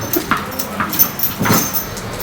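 A working-line puppy whimpers and yips in a series of short, high, nasal whines, close and fairly loud against a quiet background.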